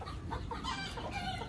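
Chickens clucking in short overlapping calls while being fed, several birds close by, busy and continuous against a noisy background.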